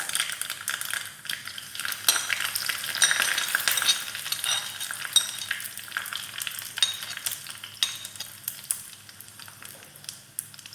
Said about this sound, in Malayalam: ഇനി നമുക്ക് ഇതിലേക്ക് കരിവേപ്പിലയും മുളകും കൂടി ചേർക്കാം.